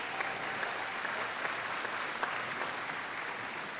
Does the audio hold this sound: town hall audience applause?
yes